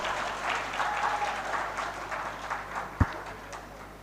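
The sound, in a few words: audience clapping at a conference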